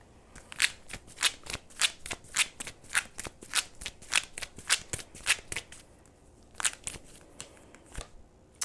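A deck of oracle cards shuffled by hand, a rapid run of crisp riffling bursts in a steady rhythm, then a brief pause and a few more flicks, close and clear with no talking.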